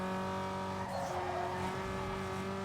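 Need for Speed Underground 2 street-race car under a nitrous boost: a steady, buzzing engine drone with a brief surge of hiss and rushing air in the middle, close and continuous for under three seconds.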